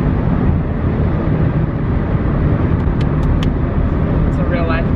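Steady road rumble inside a moving rental car, a constant low engine and tyre drone with a few faint clicks near the end.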